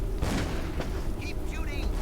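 Gunfire in the video game Call of Cthulhu: Dark Corners of the Earth sounds as dull booming shots inside a dense, rumbling battle din, with voices talking over it.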